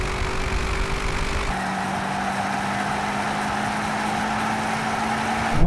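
A BMW M8 engine on a drag race run, a loud continuous drone that rises in pitch as the car accelerates, heard alone.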